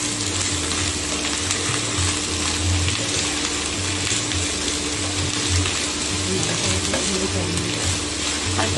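Thinly sliced snake gourd stir-fries in hot oil, a loud, continuous close sizzle with the scrape and shuffle of stirring running through it over a low steady hum.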